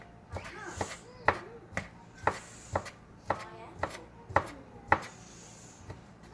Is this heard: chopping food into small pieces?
yes